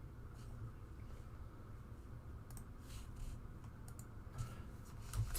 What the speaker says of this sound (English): I'm just retyping it in.